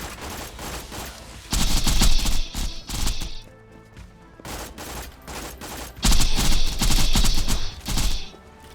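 Video game battle with rockets and gunfire: bursts of rapid shots and blasts come in two loud clusters, separated by quieter stretches of scattered pops and distant firing.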